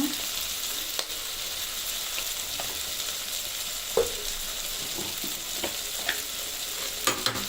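Tomato masala with turmeric fries in a pan with a continuous close sizzle, broken by occasional clicks and scrapes of stirring.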